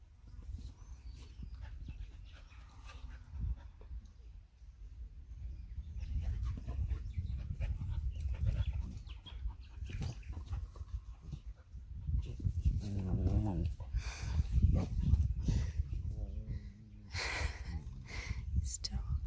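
A dog whimpers softly and pants during a groundwork training session, the thin whines and breathing rising over a low, rumbling background with quiet human murmuring.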